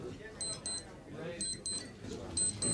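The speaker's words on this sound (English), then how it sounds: "Ah, I think you find it your watch" A wristwatch alarm beeps in a thin high pattern of paired chirps, repeated three times, faint beneath people talking in a room.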